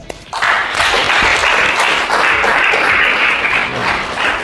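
A classroom of students applauds, a dense burst of clapping starting abruptly and continuing steadily and loudly for several seconds.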